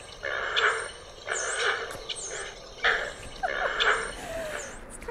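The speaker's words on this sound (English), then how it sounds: "You can also identify the Great Blue Heron by listening for its call." A great blue heron gives four harsh, raspy squawks at roughly one-second intervals, moderately near, with faint outdoor ambience between calls.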